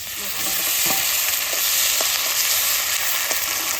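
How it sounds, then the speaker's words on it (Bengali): Bay leaf, dried chilli, onion, ginger, garlic and cumin sizzle in hot oil, a loud steady frying hiss with occasional stirring clinks and scrapes throughout, no talk. "তেজপাতা আর শুকনো লঙ্কা তেলে দিয়ে দিল পেঁয়াজটা দিয়ে দেবো আদা রসুন আর জিরে আর শুকনো লঙ্কা"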